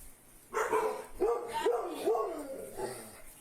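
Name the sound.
dogs barking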